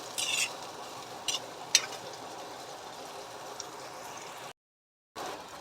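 Soya chunks (meal maker) fry and get stirred in a pan, a steady soft sizzle broken by a few sharp scrapes and clinks of the spatula, then a brief dropout before the sizzle returns.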